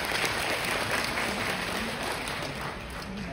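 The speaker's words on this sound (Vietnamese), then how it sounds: "Nếu đồng ý thì cho xin một tràng vỗ tay đâu ạ" Audience applause at a seminar, a dense, steady wash of many hands clapping that runs evenly throughout at moderate distance.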